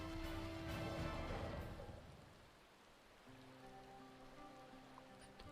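Steady rain falls in a Final Fantasy XIV game scene, a broad hiss that is loud at first and then eases into a softer patter as faint musical tones rise underneath.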